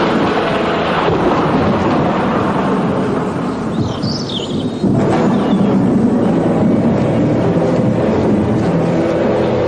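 Thunderstorm with a heavy, continuous low rumble and roar of rain that grows louder partway through, loud and enveloping with no voices.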